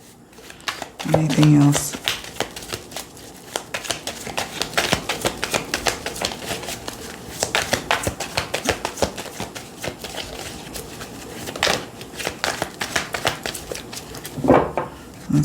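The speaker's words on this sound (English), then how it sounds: "Do a few more shuffles on Wednesday." Oracle cards being shuffled repeatedly by hand, a steady run of soft riffling and tapping clicks heard close by, with someone speaking briefly over the sound.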